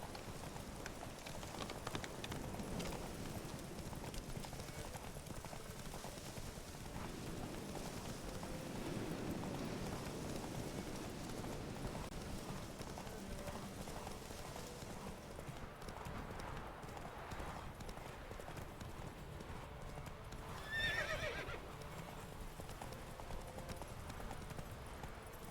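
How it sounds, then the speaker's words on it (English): Clip-clop of a horse galloping steadily in the Witcher 3 video game, hoofbeats continuous and fairly close throughout, with a brief whinny-like sound near the end and some game ambience underneath. "Run, Roach. You were faster once!"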